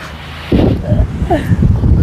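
Wind buffeting the microphone outdoors during a mukbang of crispy pata and fruit, a low rumbling gust that rises suddenly and persists, with voices talking over it.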